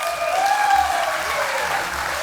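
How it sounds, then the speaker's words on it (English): Applause fills a charity ball as a speaker finishes, a steady wash of clapping from a large crowd, loud and continuous throughout. "I'll keep the applause going for Josh on debut."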